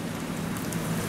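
Steady rain falls outside a high-rise apartment, heard faintly through a slightly opened double-glazed window as a continuous soft patter and hiss with no talking.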